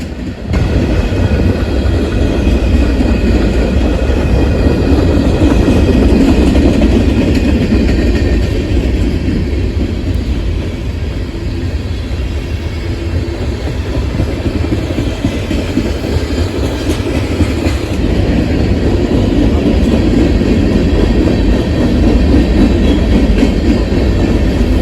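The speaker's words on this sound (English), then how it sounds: "Norfolk Southern Mixed Freight Train 195, heading northbound from Portsmouth, Ohio to Bellevue, Ohio on the Sandusky District." Norfolk Southern mixed freight train 195 rolling past close by on the Sandusky District in Ohio, with a loud, steady roar of wheels and wagons, faint clickety-clack and an occasional squeal throughout.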